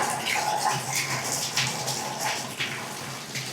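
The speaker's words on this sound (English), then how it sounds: "that's the faucet, and water comes out of there somehow" Water running from a bathtub faucet in an empty, recently renovated house, a steady broadband rush of flow that stays fairly even throughout.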